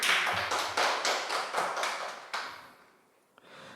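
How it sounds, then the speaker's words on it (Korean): A church congregation claps together in a short burst of rhythmic applause, a series of regular, evenly spaced beats that fade out, with a faint sound after a brief pause. "우리 한 번 더 하나님께 영광의 박수를 올려드립시다"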